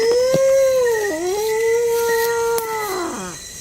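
A dog howls in long, wavering, mournful tones, close and loud, with pitch dipping and rising and a few sharp yips breaking through.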